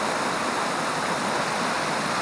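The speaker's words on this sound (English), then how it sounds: "Here's my waterfall." Waterfall on Burnt Pond Brook during hard rain, a steady dense broadband rush of falling water and rainfall with no breaks, loud and close.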